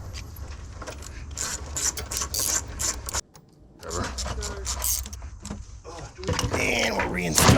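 Ratchet wrench working on starter motor mounting bolts in a car engine bay, quick clicking ratchet strokes in irregular bursts with a short pause, close and clattery, with metal tools jangling.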